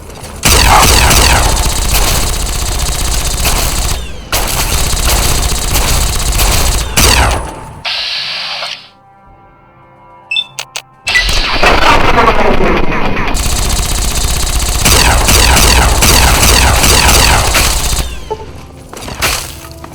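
Dense bursts of automatic gunfire and heavy booms from a battle in the video game Fallout 3, loud and nearly continuous, with a brief lull midway before the firing resumes.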